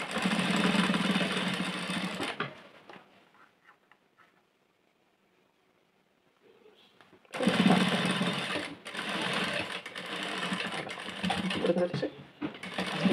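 A sewing machine runs in two loud bursts of rapid stitching on cloth, with a near-silent gap between them and a voice heard faintly.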